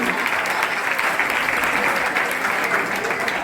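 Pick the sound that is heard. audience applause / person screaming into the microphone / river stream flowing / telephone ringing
audience applause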